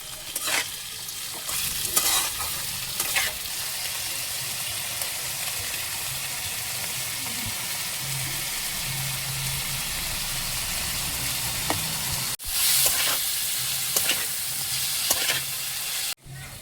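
Boiled potato mash stir-fried in a pan gives a loud, continuous sizzle with intermittent spatula scrapes and clinks, close up and steady for the whole stretch, and nobody speaks.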